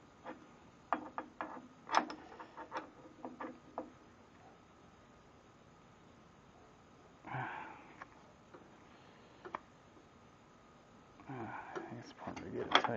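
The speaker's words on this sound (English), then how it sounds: "going counterclockwise on the collet wrench is how you tighten it" A collet wrench tightens the collet on a 1-1/2 HP variable speed plunge router, giving quiet metallic clicks, ratcheting taps and clunks in scattered bursts, with someone speaking intermittently between them.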